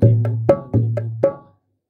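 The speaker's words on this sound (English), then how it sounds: "It's a 8-bit bowl and it sounds like this." Dholak played alone in an eight-beat opening pattern for bhajan or kirtan: a deep booming bass stroke rings under sharp, bright slaps, about five distinct hits close up, then silence.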